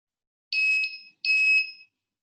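An IR sensor electronics circuit from a kids' robotics lesson gives two short, shrill electronic beeps in quick succession, clear and close against silence.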